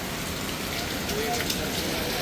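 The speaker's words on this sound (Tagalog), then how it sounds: "malakas ang ulan" Heavy rain falls on and around a bus waiting area, a steady, dense hiss that stays loud and unbroken throughout.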